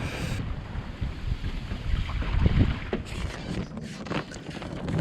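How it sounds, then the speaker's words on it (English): A sailboat running south on a swell with the wind behind it past a lighthouse, with rushing water, hull wash and heavy wind buffeting the microphone, continuous and close, no talk. "And here we are sailing south on a nice swell, wind behind us"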